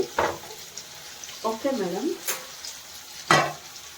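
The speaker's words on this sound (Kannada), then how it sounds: "ಈಗ ಈ ರೈಸು ಬಾಯ್ಲ್ ಆಗೋ ಅಷ್ಟೊತ್ತಿಗೆ ನಾನು ಚಿಕನ್ನು ಫ್ರೈ ಮಾಡ್ಕೋತೀನಿ" Chicken fries in a pan for dum biryani, giving a low steady sizzle broken by a few sharp scraping stirs of a spoon against the pan, close and fairly clear.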